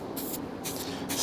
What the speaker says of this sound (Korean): 스프레이를 가볍게 뿌려주신 다음에